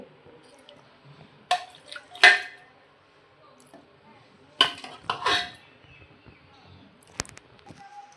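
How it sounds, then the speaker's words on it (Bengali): Chunks of meat are tipped into a pot of cooked pulao, giving a few wet thuds and clinks of a spoon against the pot, spaced out over a quiet kitchen. "এবার এটার মধ্যে মাংসগুলো অ্যাড করে দিব"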